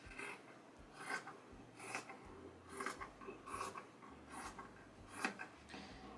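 Scissors cut through polyester fleece around a template in a regular run of crisp snips and rasps, about one each second. The cutting is close but quiet and no one talks.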